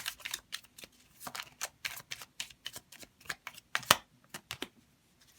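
Tarot cards shuffled and drawn, a rapid run of crisp riffling snaps and flicks, close and fairly quiet, with one sharper slap partway through and no talking.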